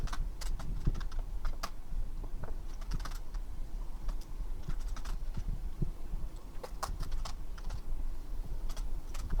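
Typing on a computer keyboard: steady, rapid key clicks close to the mic, continuous through the whole stretch over a low background hum.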